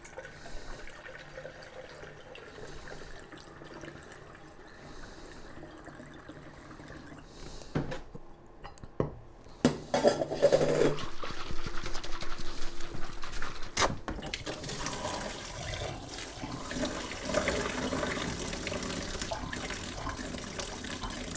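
Water rinses through a whiskey barrel with a soft, steady trickle and splash that grows louder and fuller about halfway through, with a few knocks and clunks before a continuous gushing flow.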